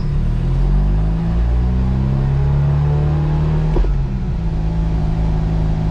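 A loud rotary engine in a Corvette holds a steady high-revving drone close up at about 3,000 RPM on a dyno, with a brief blip in the middle before settling back to the same pitch.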